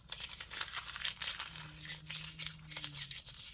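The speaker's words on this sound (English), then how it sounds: "Let me just get the green painter's tape off." Green painter's tape being peeled and crinkled off a mail package, a close, continuous rustling and tearing with no voices.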